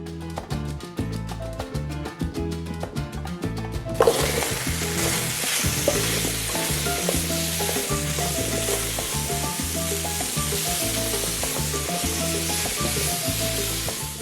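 Vegetables frying in a pan for ropa vieja, a bright steady sizzle that jumps in loudness after a few seconds and then holds, with background music running throughout.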